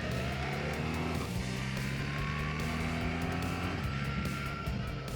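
A BMW R1300GS motorcycle is ridden in manual mode on a winding road, with the rider shifting gears himself; a steady, loud engine drone carries through the clip, with shifts breaking the pitch.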